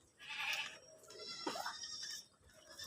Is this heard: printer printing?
no